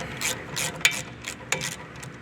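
A 17 mm wrench ratchets a nut loose on the rear brake caliper of a 2024 Toyota Tundra, with close, rapid clicking pawl bursts in several short strokes.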